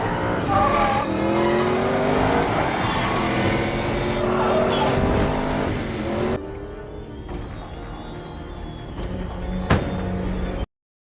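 Cars in a high-speed film chase: engines roar and rev through shifting pitches with tire squeal and skidding, loud and close, then drop to a quieter engine hum with one sharp impact near the end.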